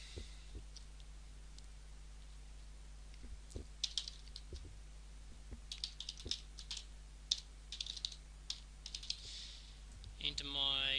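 Sparse keystrokes and mouse clicks tap on a computer keyboard, quiet and close, in irregular bursts over a low steady hum.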